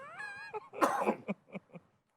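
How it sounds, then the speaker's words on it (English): A person clears their throat with a few short, rough coughing rasps, close and fairly quiet, fading off at the end. "Let me clear my throat."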